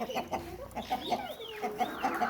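Several hens in a coop cluck and murmur in repeated short calls, close by, with a few rising, drawn-out squawks mixed in.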